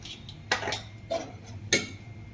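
A spoon stirs rabdi and fresh cream together in a bowl, clinking against the dish in three distinct scraping strokes spaced about half a second apart, close and fairly quiet.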